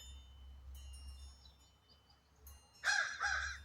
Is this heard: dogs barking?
no